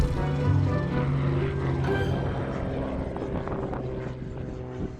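Small propeller airplane in flight on the short island hop between Westray and Papa Westray airports, its engine droning steadily and loudly up close, a continuous hum with no break.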